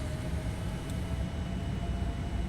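A Boeing 787 rolls down the runway for takeoff in the Prepar3D v4 flight simulator, a dense, steady roar of engine and rolling noise that holds even and constant throughout.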